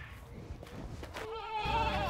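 Goats bleat at lunchtime on a farm, a few wavering calls that grow louder and clearer toward the end over a low background rumble.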